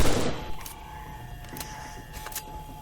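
An ICR assault rifle fires in Call of Duty: World at War zombies on Shi No Numa: a burst of sharp shots up front, then a few softer, spaced cracks over a steady in-game hum.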